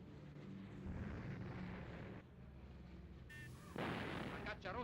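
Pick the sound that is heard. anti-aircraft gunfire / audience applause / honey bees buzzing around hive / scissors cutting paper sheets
anti-aircraft gunfire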